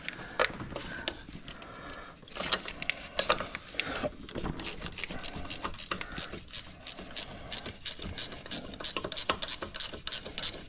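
A ratchet on a Nissan Z31 motor mount stud clicks in quick repeated bursts, with the strokes growing steadier and more rhythmic toward the end, close and clear.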